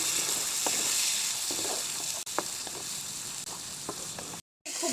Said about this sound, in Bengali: এখন আমি কিছুটা জল দিয়ে খুব ভালো করে মশলাটাকে কষিয়ে নেব।